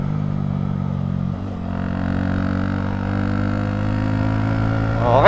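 A manual motorcycle engine holds a steady idle-like drone, then revs rise in a sustained climb while rev matching during gear changes on an uphill; the engine sits close and loud, and a sharp rise comes at the very end.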